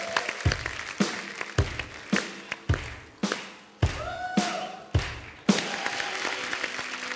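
A studio audience at a comedy talk show claps as a guest walks on, with loud, sharp bursts of clapping and thumps swelling and fading in waves over several seconds.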